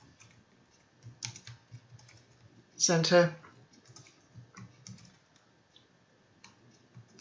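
Soft clicks of a computer keyboard tap out in short irregular bursts while a person speaks quietly over them, with one louder burst of voice in the middle.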